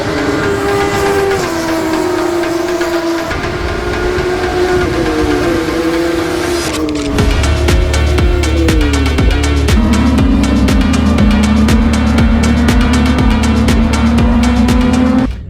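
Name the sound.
small race cars sounding like motorbikes on the track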